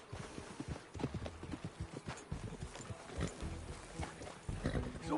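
Horse hooves clip-clopping in the Red Dead Redemption 2 video game, a quick uneven run of close hoofbeats with background game ambience and occasional voices.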